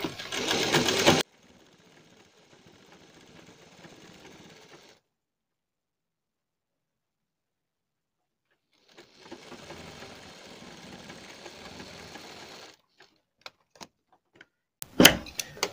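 A sewing machine stitches piping onto a blouse in two separate runs of steady whirring with rapid rhythmic needle clatter, a silent pause between them, and a few sharp clicks and knocks at the end.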